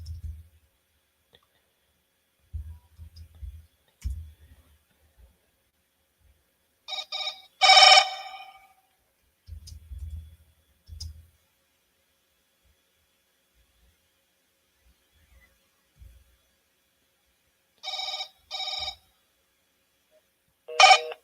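Telephone ringback tones on a redialed call, with bursts of repeated ringing heard three times, separated by quiet stretches and low clicks from handling the line.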